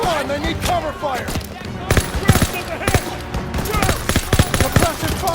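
In Call of Duty WWII, dense bursts of rifle and machine-gun fire crackle near and far in rapid, uneven volleys. Soldiers' shouted voices sound beneath and between the shots.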